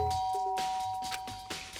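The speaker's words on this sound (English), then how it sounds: "I pressed the doorbell." A doorbell in the Danganronpa: Trigger Happy Havoc video game gives a short electronic ding-dong chime over quiet background game ambience.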